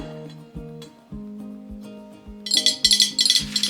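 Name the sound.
glass bottles clinking while being cleaned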